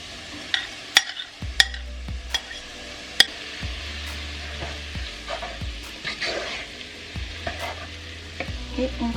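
Onions and leeks fry in plenty of oil with a steady sizzle while being stirred, with sharp scraping and clinking knocks of the utensil against the pan repeating through it.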